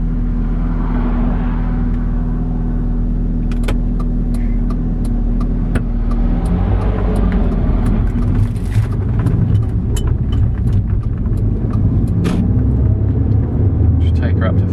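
An abandoned, long-unused Audi S3 8L turbo engine idles, then revs up to around 3,000 RPM with a deep rumbling close by, overlaid by clicks and taps and a voice talking.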